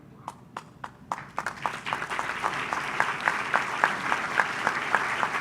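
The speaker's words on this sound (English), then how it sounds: "So that we may thank you with our applause." Applause from a banquet audience at an awards dinner, starting with a few scattered claps that quickly build into steady, fairly loud clapping from the whole room.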